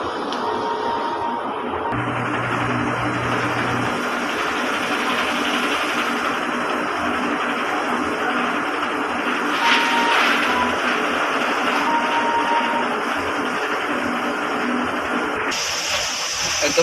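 A DTF printer cycles through a print head cleaning routine, giving a steady mechanical whir with pump and carriage tones that shift over about seventeen seconds, close and fairly loud, with no talking.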